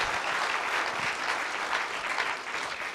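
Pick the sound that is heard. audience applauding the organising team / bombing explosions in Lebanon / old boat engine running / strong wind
audience applauding the organising team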